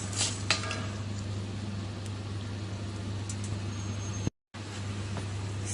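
Coriander seeds, fenugreek and cumin lightly frying in a pan for a mutton garlic spice powder, a soft continuous sizzle under a steady low hum, with a few stirring clinks and a brief dropout near the end.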